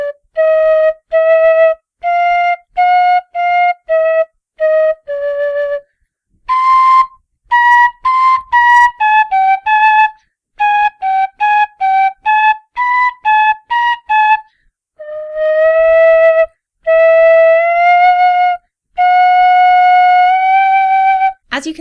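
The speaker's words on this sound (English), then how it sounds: "As you can hear, this whistle performs pretty well when it comes to ornaments and half holes" A wooden low D tin whistle playing a lively tune up close, with clear, breathy notes, quick ornaments and short phrases separated by brief pauses, loud and alone with no talking.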